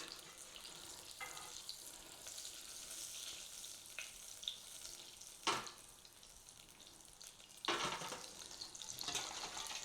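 Butter melts gently in a pan for a gluten-free béchamel, a faint, soft sizzle under a low background, broken by a couple of brief louder clatters of a utensil stirring.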